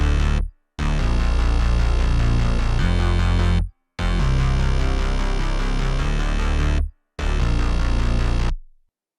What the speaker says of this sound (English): The basses alone sound like this.